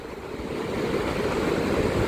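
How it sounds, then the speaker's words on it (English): Ocean waves wash in as a continuous, moderately loud roar of surf with some wind noise, no voices present over the brief stretch. "The ocean."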